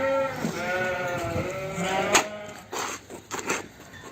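Several lambs bleat close by on a farm in quick succession, their wavering high-pitched cries overlapping, followed by some rustling and shuffling.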